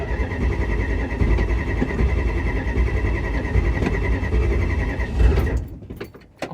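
A 318 V8 in a 1969 Plymouth Fury III with about 97,000 miles turns over cold after sitting unused for a few weeks, cranking roughly and catching into a rough idle. The sound stays loud and close, then stops abruptly near the end.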